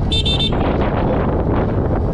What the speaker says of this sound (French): On va tester un peu le klaxon.